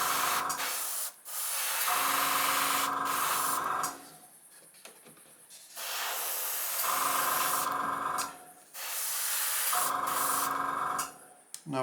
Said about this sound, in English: I have adjusted my airbrush so it's not coming that much paint